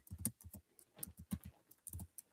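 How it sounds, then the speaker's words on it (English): Typing on a computer keyboard, quiet irregular bursts of clicking keystrokes with short pauses between them and no voices. "Let me type that out for y'all."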